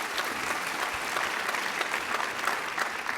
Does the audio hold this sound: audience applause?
yes